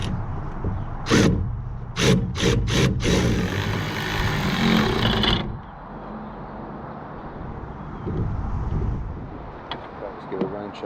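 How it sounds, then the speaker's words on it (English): A metal ladder rack scrapes across the roof of an Astro van, giving a harsh, gritty rasp with several sharp strokes. It then fades into quieter rustling and handling noise, with a voice talking over it. "Scraping on the roof."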